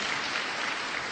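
Applause for the Lord at a church gathering, a steady wash of clapping from the congregation with no pauses over its short length.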